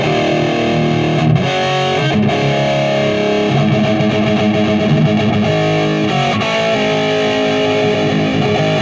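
Heavily distorted electric guitar through a BOSS unit set for a 70s tone plays loud, saturated riffs with sustained chords and quick runs, continuous and dense with no talking.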